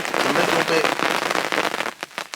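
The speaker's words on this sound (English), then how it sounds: "The rain's back, as you can probably hear." Steady rain falls at a riverside barbel fishing spot on a stretch near Quatford, a dense continuous patter that fills the clip and thins out toward the end.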